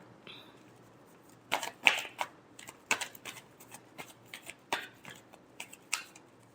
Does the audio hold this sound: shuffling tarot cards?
yes